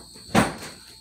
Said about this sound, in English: Can you pull the door for me?